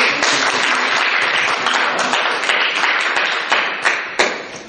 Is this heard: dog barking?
no